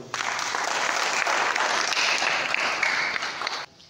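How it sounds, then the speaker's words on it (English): An audience claps together at an Independence Day party, a dense, steady burst of applause lasting several seconds before stopping abruptly. "we can clap for ourselves."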